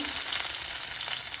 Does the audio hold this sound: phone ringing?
no